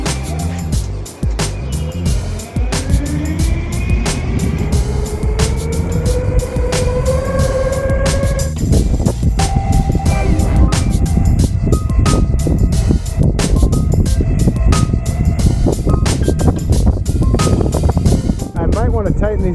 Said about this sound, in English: this is a nice smooth street here, so I'm going to go ahead and give it a little bit of gas